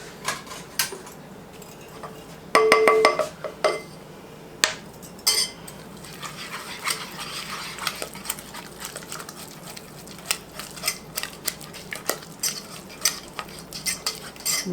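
A whisk works vanilla into a cake icing mixture in a bowl, with quick metallic scraping and clinking strokes against the sides, a few sharper clanks early on, then steady rhythmic stirring close by.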